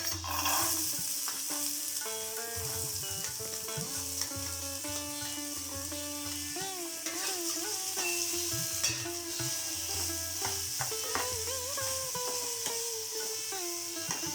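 Chopped beans, carrot and onion fry in a pan with a steady, close sizzle and occasional stirring, while music plays in the background.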